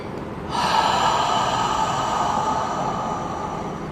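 A long, forceful breath pushed out through the nose or mouth, steady and hissing for several seconds, close and alone.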